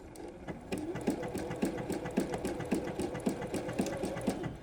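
Sewing machine running a standard zigzag stitch across hand knitting, a steady rapid mechanical chatter with rhythmic thumps from the needle swings, close and alone without talk.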